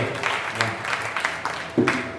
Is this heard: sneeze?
no